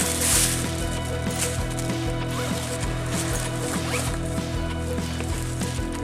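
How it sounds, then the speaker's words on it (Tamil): A double zipper on a lightweight fancy bag at a bag market is run open and closed repeatedly, a steady close rasping over a constant background of market hum and music. "இது வந்து டபுள் ஜிப்பு."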